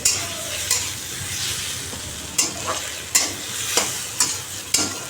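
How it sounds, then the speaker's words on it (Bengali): Sliced snake gourd frying in a pan and being stirred, a close sizzle punctuated by about six sharp scrapes and clatters of the spatula against the metal, no talking. "আমার চিচিঙ্গা ভাজা হয়ে গেল এবার নামিয়ে দেবো একদম লাল লাল করে ভেজে নিয়েছি"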